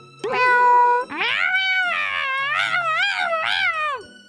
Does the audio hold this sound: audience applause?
no